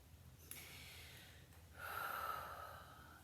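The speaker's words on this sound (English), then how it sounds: "So inhaling and exhaling." Slow breathing during a plus-size yoga workout, a soft breath followed by a longer, steadier airy exhale that rises in the second half, close and alone with no talk.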